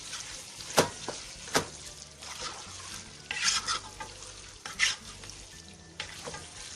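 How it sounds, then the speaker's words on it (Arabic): Chicken seasoned with salt and sumac is stirred in a pan for Palestinian musakhan, a spoon scraping in a few distinct strokes over a soft steady sizzle of frying, close by. "بحركه كويس"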